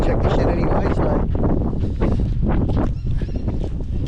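Strong cyclone wind buffets and roars continuously against the microphone, a loud, rough outdoor rush with no clear voices.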